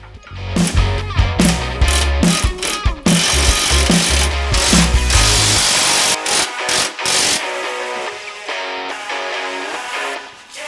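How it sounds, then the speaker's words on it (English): A wire brush spins against a corroded bolt in repeated loud bursts, the power tool revving and grinding in short pulses before a rougher, more continuous stretch of scrubbing metal. "Use safety glasses when running a wire brush."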